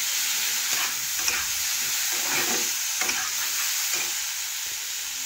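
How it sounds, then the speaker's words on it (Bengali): Potatoes sizzle steadily as they fry with salt in a pan, with a spatula scraping and stirring through them in loose, repeated strokes. The hiss stays continuous and close throughout. "এখন নাড়াচাড়া করে লবণ ভালোভাবে মিশিয়ে নিচ্ছি।"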